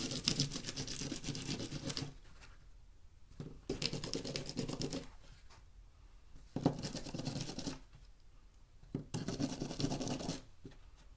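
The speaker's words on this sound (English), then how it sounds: "I'm going to get my brush out and brush this, my die cut brush" A die cut brush sweeps over a die-cut paper piece for a Halloween treat craft in bursts of brisk, scratchy brushing, four or so strokes separated by short pauses, close and fairly loud with no talking.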